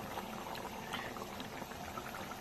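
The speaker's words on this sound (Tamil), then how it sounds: "நம்ம குழம்பு நல்லா கொதிச்சுட்டு இருக்கு" Nethili (anchovy) fish curry boils in a pot, a continuous close bubbling and popping that stays steady throughout, with no talking.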